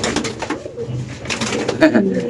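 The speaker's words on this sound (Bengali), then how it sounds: "এত বড় সাইজের মাল্টেস কবুতর আসলে পাওয়া যায় না বলেই চলে" Several caged Maltese pigeons coo in low, throaty bursts close by at a pigeon farm, overlapping with people talking nearby.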